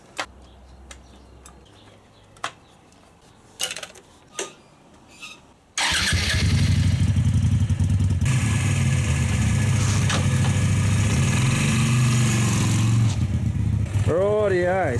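A motorcycle engine cranks and fires into life, then settles into a loud, steady running note close by, with a few faint clicks and knocks beforehand and a brief rise in revs near the end.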